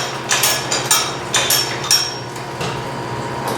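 Metal clacks of a ratchet mechanism on a grape press come in a slow, uneven series of sharp, close clicks over a low background hum.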